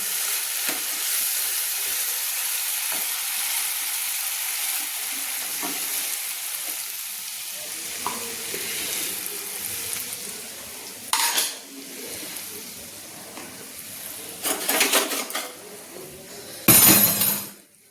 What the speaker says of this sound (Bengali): সুন্দর করে মশলাটাকে আমি কষিয়ে নিচ্ছি